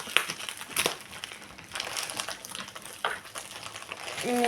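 A storage binder for diamond painting gems is unwrapped from its packaging, with close, irregular crinkling and rustling of plastic and a few sharper crackles and handling bumps.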